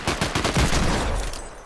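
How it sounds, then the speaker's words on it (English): Rapid string of loud Desert Eagle pistol shots fired during a first-person Fortnite match, several sharp cracks in quick succession that blur into a dense burst of game gunfire. "That's a deagle."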